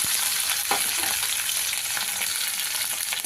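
Onions and curry leaves frying in oil for an Andhra-style brinjal curry, a loud dense sizzle held steady throughout with occasional scraping stirs of a spoon against the pan, close up and without speech.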